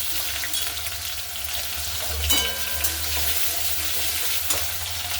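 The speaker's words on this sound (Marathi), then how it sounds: "बटाटे छान 1 मिनिटभर परतलेले आहेत मी." Potatoes fry in a pan with cumin and mustard seeds, giving a steady, moderately loud sizzle with a few stirring knocks and no voices.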